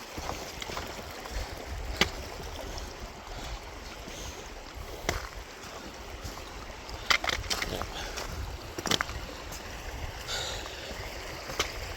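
Steady wading through shallow creek water in Oak Creek Canyon, with continuous sloshing and rushing flow close by, broken by occasional sharper splashes as footsteps push through the stream.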